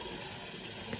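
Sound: hot water poured to soften shaving soap

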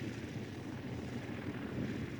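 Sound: restored classic aircraft at Duxford airfield

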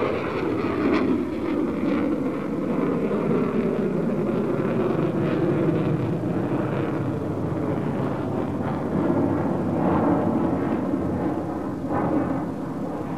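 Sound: jet fighter aircraft performing loop

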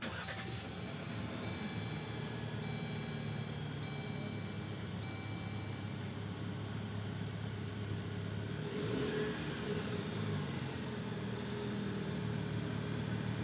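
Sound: 2021 Jeep Wrangler Rubicon engine starting by push button

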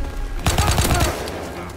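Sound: Type 100 submachine gun firing in WW2 video game

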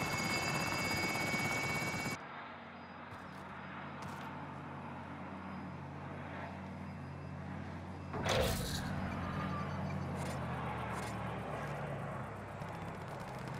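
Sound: helicopter in the video game Warzone

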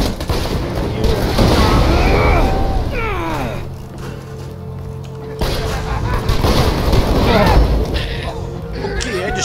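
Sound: gunshot in Borderlands 2 video game

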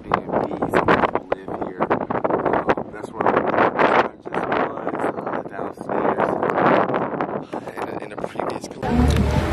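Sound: strong wind blowing

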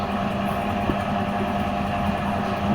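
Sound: motor running

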